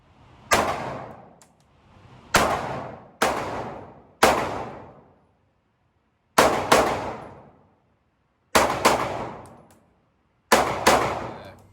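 Children fire guns during supervised gun training, producing about ten sharp cracks in irregular pairs and singles. Each shot has a short decaying ring, with silence between shots.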